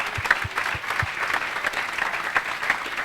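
A conference audience applauds in a steady, moderately distant burst of clapping that lasts the whole stretch without talk, with a few louder individual claps standing out.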